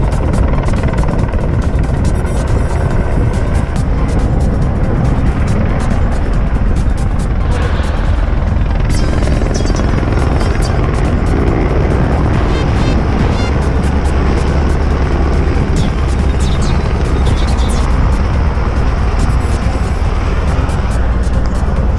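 A helicopter at a river rafting starting point roars loudly and continuously throughout, a heavy broadband engine and rotor drone that never lets up.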